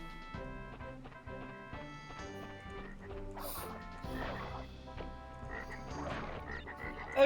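Cartoonish frog croaks from the Crash Bandicoot 3: Warped video game, repeated over layered game music and effects, moderately loud, with no talking.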